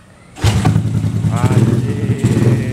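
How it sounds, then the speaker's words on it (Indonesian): A bored-out Yamaha Jupiter Z 145cc motorcycle engine starts with an abrupt loud catch after a brief quiet moment, then runs with a rough, lumpy idle close by, with a voice heard briefly over it. "kita coba nyalakan ya mesinnya ya"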